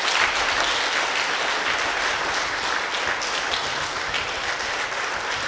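A church congregation claps and cheers for the Lord in a steady, dense burst of applause that fills the whole stretch, loud at first and easing slightly toward the end.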